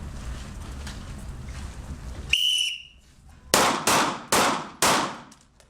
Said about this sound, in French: On fait que du tir à balles réelles.